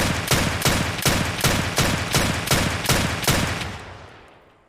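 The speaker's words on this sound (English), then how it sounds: "this is the new shotgun that was added this wipe" A new shotgun fired in the video game Escape from Tarkov lets off a rapid, evenly spaced string of about nine loud, close blasts, with a fading tail after the last shot and no talking.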